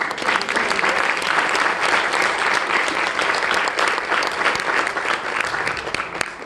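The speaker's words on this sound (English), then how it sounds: "Please give him another round of applause." An audience at a Hispanic American advisory awards ceremony applauds a speaker after his speech. Thick, sustained clapping fills the room at an even level for several seconds, then tapers slightly at the end.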